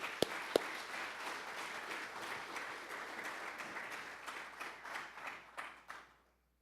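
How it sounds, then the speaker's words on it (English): Summit attendees in a conference hall give a round of applause: a steady patter of many hands clapping, with a couple of sharp close claps early on, that fades out after about six seconds. "I want to give a round of applause for our partnership with PUCCM."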